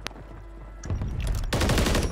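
Gunfire in the Call of Duty video game, a single sharp shot followed by bursts of automatic fire that grow loud and dense, with no talk over it.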